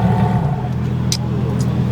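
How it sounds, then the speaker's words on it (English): A twin-turbo supercar engine rumbles and revs at an exotic car meet. The sound is a steady, loud low drone with faint traffic around it and a couple of sharp high chirps. "Please rev it, I swear to God."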